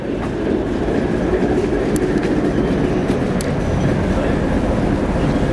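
A low, steady rumble of a Class 08 diesel shunting locomotive idling nearby, constant and droning, with occasional faint clicks over the top.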